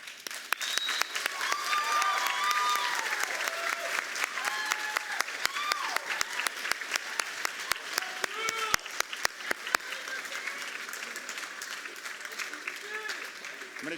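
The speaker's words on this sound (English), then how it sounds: "since I made you give me a standing ovation" Audience at an architecture and design school commencement gives a standing ovation, with sustained dense applause and scattered whoops and shouts heard throughout.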